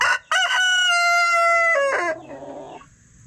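A rooster crows loudly nearby in one long drawn-out call in a chicken flock, followed by a few softer clucks as it fades.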